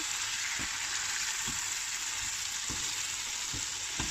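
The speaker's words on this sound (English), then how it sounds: "Now stir it well." Diced mango pickle stirred with spices and oil: a steady high hiss with a handful of soft periodic scraping strokes, close and continuous, no voices.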